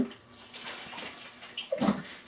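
Italian dressing poured from a shaken bottle into a turkey roasting bag for a Thanksgiving turkey, a brief, soft, steady liquid pour and splash that ends in a louder gurgling glug, with no voices.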